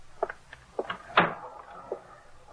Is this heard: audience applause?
no